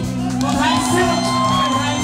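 A festival crowd cheers and shouts loudly and continuously, with whoops rising over a dense wall of voices and music, while a voice speaks over it.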